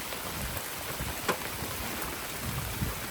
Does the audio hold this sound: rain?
yes